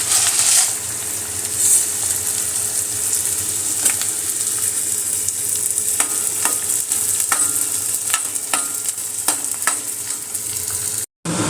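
Steady crackling sizzle of edible gum frying in hot oil in a pan, with occasional sharp pops and a constant hiss, close and continuous, no talking.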